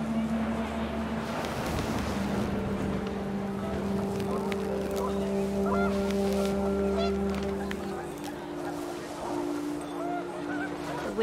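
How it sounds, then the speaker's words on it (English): Panicked geese honk in a What Remains of Edith Finch game scene as the wind picks up. Overlapping drawn-out honks ride over a low, continuous rumble for several seconds before easing off. "The wind picked up and panicked geese appeared and quickly went."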